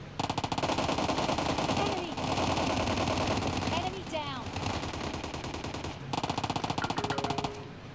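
Rapid automatic gunfire from PUBG Mobile Lite comes in dense, crackling bursts with short gaps between them. Excited voices talk over the shooting.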